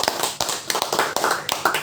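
Brief patter of audience applause at a live religious talk in Manokwari, West Papua, sharp uneven claps close together with no voices.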